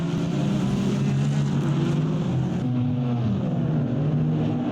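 Mazda GT race cars on the IMS road course howl past in a sustained engine roar, their pitch sliding as the cars shift and jostle through the corners, loud and continuous.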